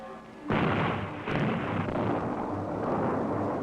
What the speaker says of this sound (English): After each explosion